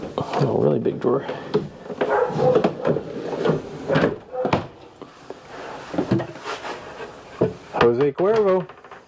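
A really big drawer in the kitchen of a 2020 Grand Design Imagine 2800 BH RV slides open with wooden rubbing and thuds, heard close under steady talk.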